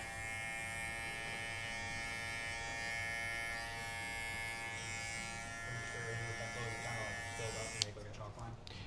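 An electric hair trimmer buzzes steadily and close for most of the stretch, its tone holding even, then cuts off near the end with a click and a few handling rustles.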